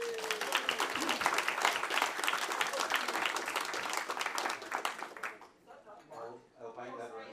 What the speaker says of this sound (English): We'll give him a wee round of applause.